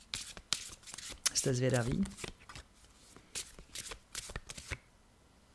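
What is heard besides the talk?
shuffling tarot cards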